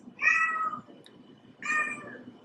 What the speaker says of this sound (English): I'm so sorry about my cat!